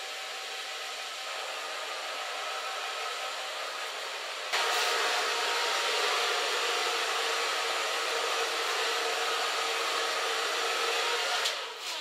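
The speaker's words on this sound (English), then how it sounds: "Start blow drying just softly to create light and curly hair." A hair dryer blows steadily on curly hair in a salon, a continuous loud whooshing drone that jumps to a stronger setting partway through, with no talking.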